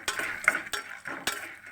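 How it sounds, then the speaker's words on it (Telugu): Chana dal roasts in a pan with a few irregular scraping stirs and light clinks over a soft sizzle, close and fairly quiet, with no talk. "మనం ఫస్ట్ పచ్చిపప్పు వేపుదాం."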